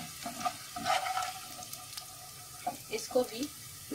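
Red chilies sizzle and fry in hot oil and are stirred now and then, giving a soft, steady crackle with a few louder scrapes. Someone talks over the cooking.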